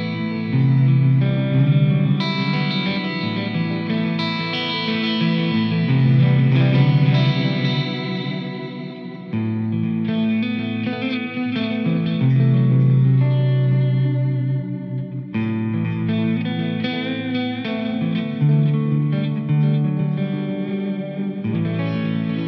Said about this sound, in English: So now I'm just going to throw in a little bit of chorus